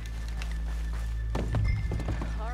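Horses in the video game Red Dead Redemption 2 stand on a dirt street. A cluster of hoof thuds and clops lands near the middle over a steady low background hum, and a brief whinny-like call follows.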